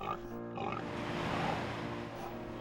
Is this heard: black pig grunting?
yes